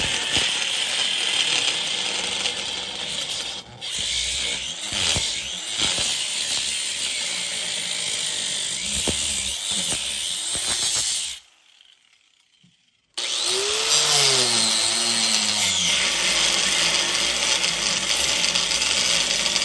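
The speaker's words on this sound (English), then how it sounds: "We are breaking out our Harbor Freight angle grinder." A Harbor Freight angle grinder cuts into a 3 lb Pittsburgh dead-blow hammer with a harsh, loud grinding whine that drops out briefly into near silence, then spins back up and winds down.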